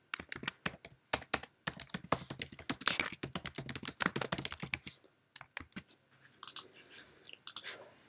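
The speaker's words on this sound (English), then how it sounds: "Now let's type something." Rapid typing on a Mac keyboard, a dense run of crisp close key clicks for about five seconds, then a few scattered keystrokes and quieter handling near the end, with no voices.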